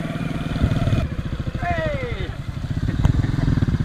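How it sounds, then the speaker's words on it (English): Motorbikes climb a mountain road near Lung Cu in northern Vietnam, their engines droning in a rhythmic pulse with a rising whine passing by, under people talking. "you can hear their bikes down the mountain a little bit"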